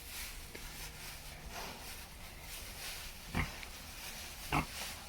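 Pigs rooting in their pen, faint low grunts and two short, sharper snorts standing out over a quiet background, no talking.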